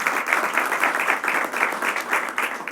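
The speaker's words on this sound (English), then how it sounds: "Let's give him a round of applause as well" Applause from the audience at a ceremony opening the first state veterans cemetery, a steady patter of many hands clapping at moderate loudness for a few seconds, with no talk over it.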